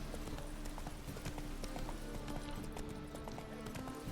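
In The Witcher 3 a horse gallops steadily, its fast rhythmic hoofbeats clopping close and continuous over low game ambience.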